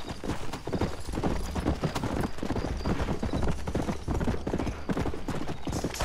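Horse hooves gallop in Red Dead Redemption, a fast, steady clip-clop rhythm running loud and close throughout, with a brief whinny and a faint voice in the background.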